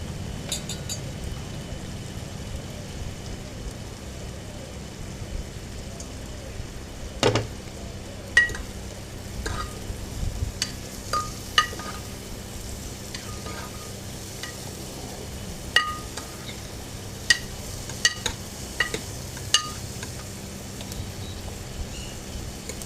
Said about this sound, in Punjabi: ਹਰੀ ਮਿਰਚ ਦਾ ਜਿਹੜਾ ਆਪਾਂ ਤੜਕਾ ਲਾਉਂਗੇ